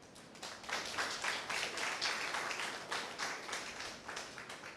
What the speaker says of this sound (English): I think Volta Region needs a round of applause for this.